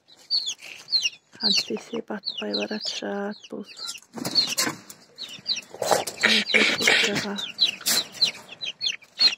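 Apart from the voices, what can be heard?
young chickens clucking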